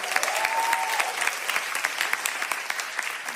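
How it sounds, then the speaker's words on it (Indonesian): A comedy show audience breaks into sustained, lively applause, many hands clapping at close range with a few sharper claps standing out. "Tepuk tangan yang setuju legalisasi ganja."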